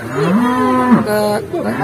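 A cow lowing in a cattle pen in Tangerang: one long, loud, close moo that wavers and shifts in pitch, followed by a shorter grunting call, with no talk.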